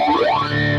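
A guitar effect from the AmpliTube Brian May plugin with its feedback control raised gives a brief, loud, distorted swirling tone with sweeping pitch, settling into a steady hum for under a second.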